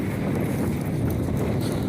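Gusty wind blows across the microphone outdoors beside a small fishing pond cove, a steady low rumbling buffet that fills the whole stretch with no talking.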